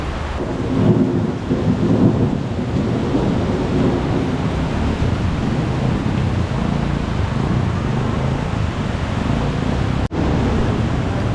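Loud, continuous thunderstorm roar with heavy rumbling thunder and steady rain, recorded outdoors at night before a southbound ride; a sharp dropout near the end briefly cuts the dense noise.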